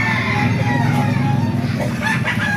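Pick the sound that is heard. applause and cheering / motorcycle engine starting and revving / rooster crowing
rooster crowing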